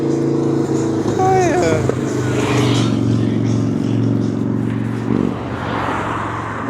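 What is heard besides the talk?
motorcycle passing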